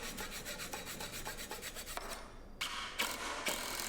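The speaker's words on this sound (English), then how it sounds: "And a little bit of sanding, and that blends together perfectly." Sandpaper rubs over cheap lumber during a bookshelf build, with close, rapid back-and-forth scratchy strokes that turn into longer, harsher rasping passes toward the end.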